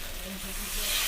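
Water poured into a hot pan of parshe fish curry gives a steady, close hiss of steam lasting about a second, growing slightly louder toward the end.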